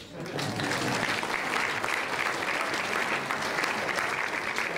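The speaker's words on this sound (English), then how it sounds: "I need you to give them an applause." A crowd applauds two helpers at a presentation, dense sustained clapping rising quickly and holding steady and fairly loud throughout.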